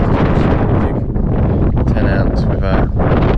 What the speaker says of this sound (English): as you can probably hear and see, it is pretty windy